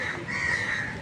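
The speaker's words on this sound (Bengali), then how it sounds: "একটু শুনুন আপনারা পাখির ডাক।" A crow caws in a lakeside park during heavy rain, a short call over a steady wash of rainfall.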